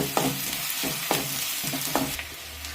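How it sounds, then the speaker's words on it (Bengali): Finely chopped onion sizzles in mustard oil for a Bengali stuffed bitter gourd curry, a close, constant sizzle broken by about four rhythmic stirring scrapes, with no speech. "পেঁয়াজটা সামান্য একটু ভেজে নেব আমরা"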